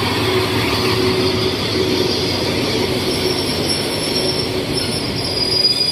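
The Thaksinarat special express train 31 rolls past Taling Chan station with a steady, loud rumble of railcars and a sustained high wheel squeal, continuous throughout with no voices.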